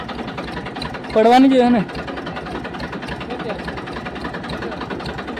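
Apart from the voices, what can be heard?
tractor engine idling on a farm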